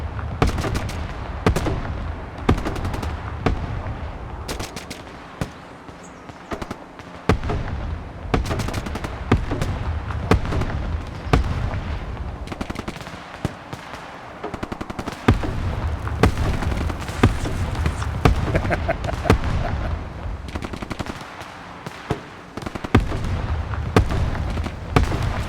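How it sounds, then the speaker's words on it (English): Punisher grenade launcher firing in the military video game Broken Arrow, a dense run of booming launches and explosions going off continuously, loud and close, with brief pauses between volleys. "So that's that Punisher grenade launcher."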